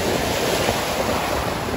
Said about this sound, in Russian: Волна довольно-таки сильная